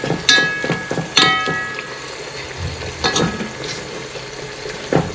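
Onions fry in oil for chicken biryani, with a steady close sizzle broken by a few sharp clinks and scrapes of a utensil against the pan.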